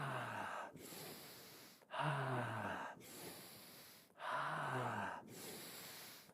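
Deep, forceful breaths during a guided breathing exercise, three long inhale-exhale cycles in steady rhythm, close and loud, with no talking.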